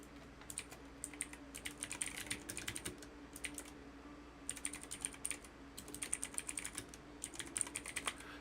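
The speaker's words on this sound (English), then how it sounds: "Yeah, I did get a newer keyboard," A new computer keyboard being typed on in bursts of rapid clicky keystrokes, close and steady, with short pauses between runs and a faint low hum in the background.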